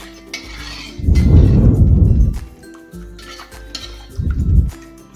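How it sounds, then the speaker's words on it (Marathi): Bajar amti curry stirred in a pot with a spoon, two thick bursts of liquid swishing and scraping separated by quieter clinks of metal, close and clear. "आता चमच्याने हे आपल्याला ढवळून घ्यायची आहे बाजार आमटी"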